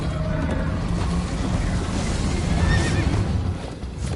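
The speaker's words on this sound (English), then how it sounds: "First time on a horse here." A horse neighs and whinnies during a chase in the Minecraft Story Mode video game, loud and close over a dense, busy game soundtrack with hoof clatter, and no voices.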